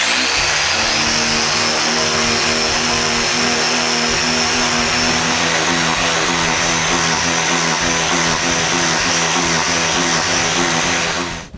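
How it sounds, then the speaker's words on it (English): A linear sander fitted with a pool-noodle sanding block works saw blade marks off wood for a six-drawer dresser: a loud, steady motor drone with a rapid rhythmic buzz that runs unbroken, then cuts off abruptly at the end. "Now it's time to sand all the saw blade marks, using my linear sander with a mold that I made."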